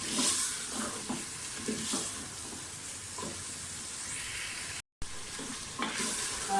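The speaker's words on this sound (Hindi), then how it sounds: "मटन को हमने इस तक भूनना है कि अपना कलर चेंज कर लें।" Mutton pieces fry with spices in a pan for dhaba-style bhuna gosht, giving a soft, steady sizzle with occasional stirring scrapes. The sound drops out for a split second partway through.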